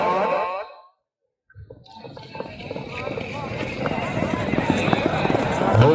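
A horse galloping during a neza bazi tent-pegging contest, with hoof beats and crowd noise rising steadily after a brief silence, under an announcer's voice.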